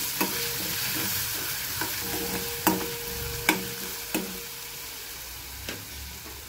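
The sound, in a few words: green chillies being sautéed and stirred in a pan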